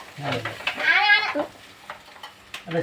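River fish fries in hot oil in a pan and is stirred, giving a close, steady sizzle with scraping stirs, while a voice briefly sounds over it.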